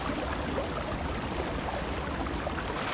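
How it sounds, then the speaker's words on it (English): Water churns and splashes as a crocodile ambushes cattle in a deep African river, a steady broadband rush of sloshing water running the whole time with no voices. "Those splashes are as clear as a dinner bell."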